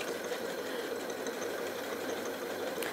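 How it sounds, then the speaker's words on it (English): Janome Atelier 9 sewing machine stitching through felt, a continuous fast even mechanical whirring and rattle that runs steadily throughout, close and moderately quiet, with no talking. "I'm going to start sewing."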